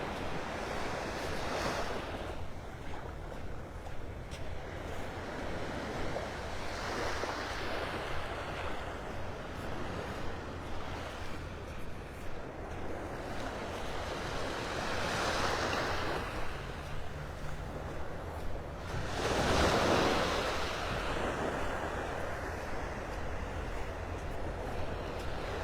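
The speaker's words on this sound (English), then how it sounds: "I'll continue our walk up the beach here." Ocean waves break on Vanderbilt Beach in North Naples, Florida, a steady washing surf that swells in several slow surges, with wind buffeting the microphone throughout and no talk.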